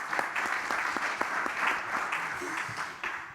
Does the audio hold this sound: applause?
yes